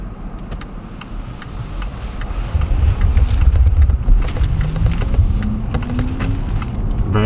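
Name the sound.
Volvo XC90 T8 driving quietly in pure electric mode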